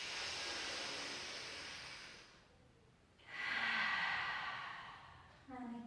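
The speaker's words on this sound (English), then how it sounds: "A couple of big breaths." Two long, deep breaths during a Pilates exercise, each a breathy hissing inhale or exhale close to the microphone, separated by a short quiet gap, with a faint voice starting at the very end.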